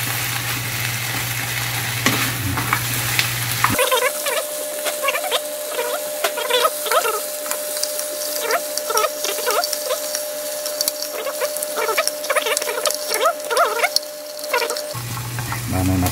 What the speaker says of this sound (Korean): 골고루 양념이 튀김에 보이도록 이렇게 양념이 골고루 발라주고요.